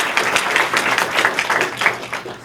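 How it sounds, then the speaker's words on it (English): A small town hall audience claps for the panel, distinct close hand claps in an uneven patter, moderately loud and brief, with no talking over it. "Let's give them a round of applause."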